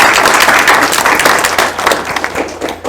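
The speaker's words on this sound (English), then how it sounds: "So Shawn, round of applause." A crowd at an indie game industry panel applauds with a steady, dense wash of clapping that holds for a few seconds and fades slightly toward the end.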